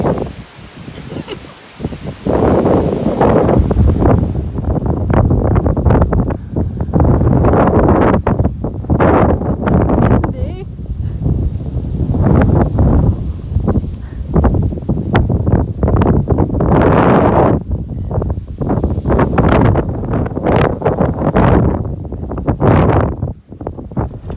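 Strong wind roars and buffets the microphone continuously at an abandoned church on an old RAF base, loud and gusty throughout, with rustling mixed in and no clear speech.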